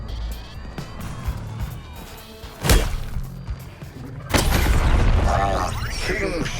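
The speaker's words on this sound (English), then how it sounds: "This artillery barrage should keep you in check." Artillery barrage in the video game Suicide Squad: Kill the Justice League: two sharp, loud booms a couple of seconds apart, the second giving way to a sustained roar of explosions and debris.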